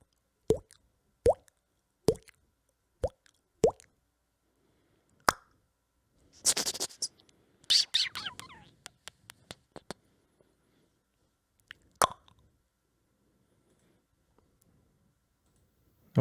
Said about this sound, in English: we'll get some mouth sounds going